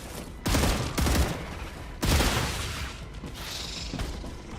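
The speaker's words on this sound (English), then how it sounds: "There's less of these guys shooting at me." Enemies shooting in the video game Star Rupture: repeated bursts of loud gunfire and booms arriving in waves, close and heavy, with no talking.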